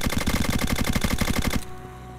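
A fast, even burst of automatic gunfire in the zombie survival shooter Clownfield 2042 rattles loudly for about a second and a half, then stops abruptly, leaving a quiet background.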